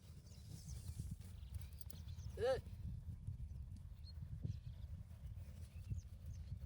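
A trained horse's hooves clopping over a busy, noisy background with voices in a Bangladeshi river-island village, and one brief whinny-like call partway through.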